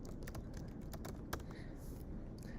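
Typing on a computer keyboard while running a make command in a terminal, with scattered key clicks over a steady low hum, fairly quiet and without talk.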